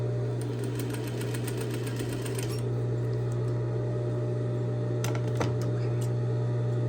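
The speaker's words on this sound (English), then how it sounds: "Now I can proceed to sew. And I'm going to backstitch at the end." A sewing machine runs steadily, stitching a seam on a fabric sample and backstitching at the end, a close continuous motor whir with a mechanical hum and a few brief clicks.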